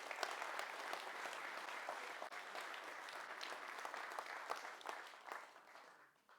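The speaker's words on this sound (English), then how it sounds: "Round of applause for forgiveness," Audience applause at a motivational talk, a steady wash of many hands clapping that stays dense and even before thinning and fading out at the end, with no speech over it.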